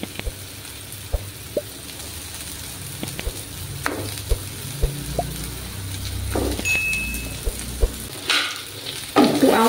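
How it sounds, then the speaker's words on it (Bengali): Eggplant pieces frying in spiced oil in a pan for a begun bhar recipe, a steady close sizzle with occasional clicks and taps of pieces being added and stirred, no talking. "মশলা থেকে তেল ছাড়তে শুরু করেছে। এবার আমি একে একে বেগুনগুলো দিয়ে দেব।"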